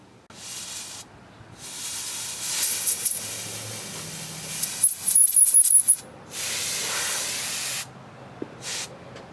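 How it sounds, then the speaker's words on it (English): A can of compressed air blowing loose debris out of small holes during a patch repair, several loud close hissing bursts of varying length separated by short pauses. "I'm going to take this can of compressed air, go through and blow out, try to get any loose debris out of the little holes"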